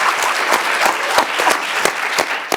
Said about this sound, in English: Give a round of applause for our two amazing guests tonight.